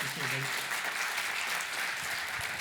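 Audience applause for Craig Hazen after his talk on Christianity among world religions, a steady wash of clapping throughout, with a brief voice at the very start.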